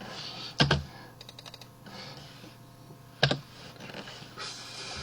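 Two crisp keystrokes click loudly on a computer keyboard a few seconds apart, with faint lighter tapping between them against a low steady room hum.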